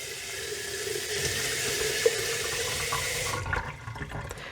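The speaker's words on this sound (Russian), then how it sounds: "Наливаю водичку" Water poured from a tap into a jar of soaking grains, a continuous close splashing stream that cuts off near the end, leaving faint clinks.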